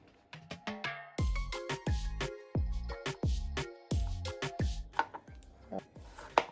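A cucumber is peeled and cut for a mango salad, giving a series of crisp, sharp knife strokes on a board in an uneven rhythm, close and clear with no talk.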